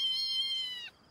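A kitten meows once, a high, clear, sustained tonal cry lasting nearly a second before trailing off into quiet, close and alone with no speech.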